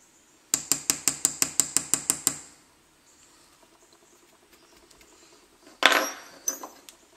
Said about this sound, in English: a round punch is used to create a texture within the cutout